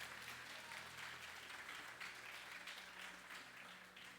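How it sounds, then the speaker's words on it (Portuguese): A church congregation applauding, a faint, steady wash of many hands clapping at a distance, holding evenly throughout and tapering slightly at the end. "Vamos aplaudir Jesus por essa história tão maravilhosa?"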